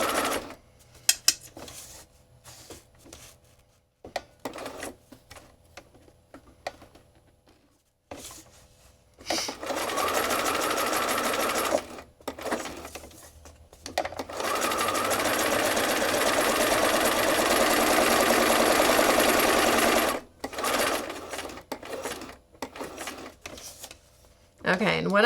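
A sewing machine stitches monoprinted bookmarks with charms, running in bursts of steady mechanical whirring between pauses, close and fairly loud, with a voice talking during the quieter gaps.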